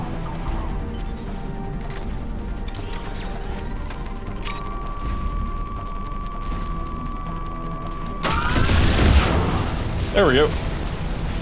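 Rocket launcher firing and exploding in Mass Effect 3, a loud broadband blast rising sharply near the end over steady game ambience and a held electronic tone, with someone talking briefly beforehand.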